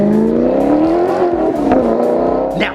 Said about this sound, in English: beautiful exhaust note, you are gonna be turning heads when you sound like this